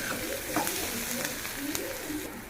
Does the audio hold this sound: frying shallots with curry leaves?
yes